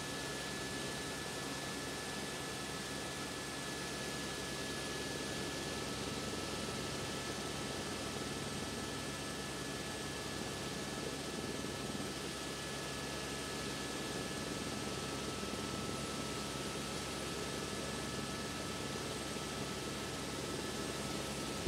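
Steady drone of an aircraft flying over a Norwegian fjord near Alta, a constant engine and airflow hum heard from inside the cabin, even and unchanging throughout.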